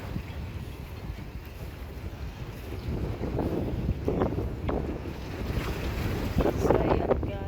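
A boat moves over choppy sea near the Balearic Islands in Spain, with steady roaring wind buffeting the microphone and waves washing and slapping against the hull, building slightly louder toward the end.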